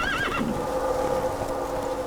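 A horse in the Witcher 3: Wild Hunt video game gives a loud, wavering whinny, followed by steady clip-clopping hooves over a constant ambient backdrop, with no talking.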